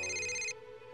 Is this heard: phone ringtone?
yes